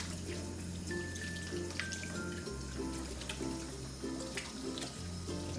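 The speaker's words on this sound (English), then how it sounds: "I'm gonna wash my hands" Water runs steadily from a kitchen tap while hands are washed beneath it, a continuous close splashing hiss with a low hum underneath throughout.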